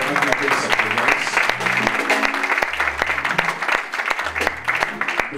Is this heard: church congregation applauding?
yes